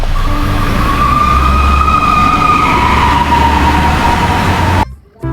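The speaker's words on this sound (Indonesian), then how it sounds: "Ada mobil pemadam kebakaran." A toy fire truck's electronic siren wails with a loud, continuous rising and falling tone over rumbling noise, then stops abruptly near the end.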